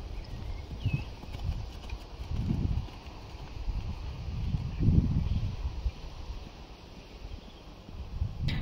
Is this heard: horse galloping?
yes